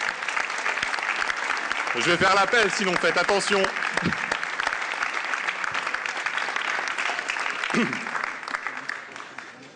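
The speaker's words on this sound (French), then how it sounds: "Et on peut les applaudir, comme ça les stimulera à venir." Audience at a 2026 New Year's greetings ceremony applauding Téléthon partners: continuous crowd clapping fills the room while someone speaks over it, and the applause thins toward the end.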